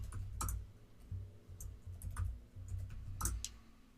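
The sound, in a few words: typing a password on a computer keyboard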